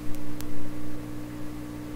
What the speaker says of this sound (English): The hum we're hearing there remains.